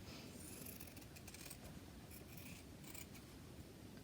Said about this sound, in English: So I'm gonna cut these pieces out.